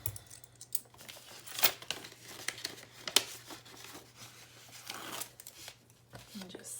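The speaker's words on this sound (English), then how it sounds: "So I'll put that in that envelope." Paper crinkles and rustles in short, close bursts as cash is slipped into a paper envelope, soft handling sounds with faint background talk.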